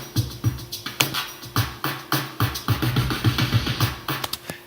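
A programmed drum fill of claps and snares, a quick run of punchy, evenly spaced hits that builds in density over a few seconds, loud and close.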